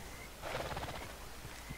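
A horse in Red Dead Redemption Online lets out a single whinny partway through, rising briefly out of a low outdoor background and fading quickly, moderately distant rather than close.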